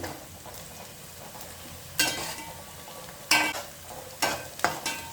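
Onions fry in oil for a chicken fry, a low steady sizzle interrupted by a few sharp, louder stirring scrapes of a spoon against the pan near the end, with no speech.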